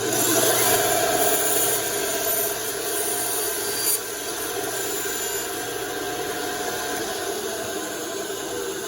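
A power saw cuts through the body of a handmade African jewelfish glide bait swimbait, a continuous close rasping whine that shifts slightly in tone partway through as the blade works the material.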